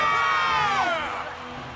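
A colosseum crowd in CookieRun: Kingdom cheers loudly at the opening of the Monster Games, a dense roar of whoops and shouting voices that swells and then fades slightly toward the end.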